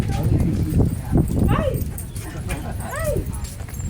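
A dog at a dog park gives sharp barks and a few high whimpers and yips, close to the microphone, while a person talks over it.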